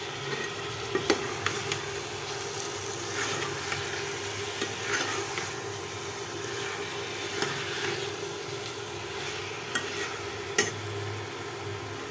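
Washed meat sizzles and fries in a pan, a steady crackling hiss with occasional stirring scrapes and clinks of the utensil against the pan, close and alone without talk.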